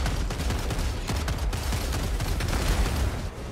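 Mines exploding in Helldivers 2, a rapid dense chain of blasts and crackling bursts packed together, loud and near, easing off at the very end.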